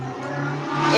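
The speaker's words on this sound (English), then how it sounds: "I hear a car." A car passes close by, a steady broadband road and engine roar that grows louder toward the end of the brief moment.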